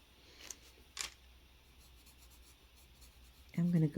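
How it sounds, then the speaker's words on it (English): A light tan Luminance colored pencil burnishes over darker color on a coloring-book page, making soft, close rubbing strokes with a couple of brief scratchy bursts, and a voice starts speaking near the end. "I'm using this light tan to burnish down the dark."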